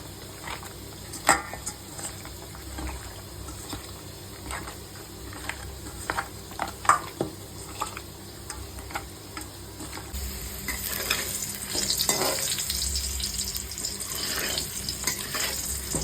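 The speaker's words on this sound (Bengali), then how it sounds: "আলুটা বেশ লাল লাল করে ভাজা হয়ে গেছে" Potato pieces fry in oil, a faint, steady sizzle with occasional scraping clicks, growing slightly louder and busier toward the end.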